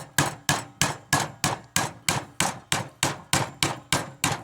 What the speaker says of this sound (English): Mr. Hammer comes in handy.